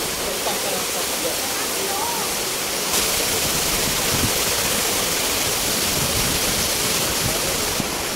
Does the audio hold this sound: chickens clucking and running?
no